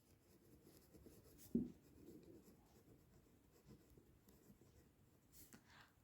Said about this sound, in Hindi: तो चलिए अब हम नेचुरल नंबर्स की डेफिनेशन लिखते हैं।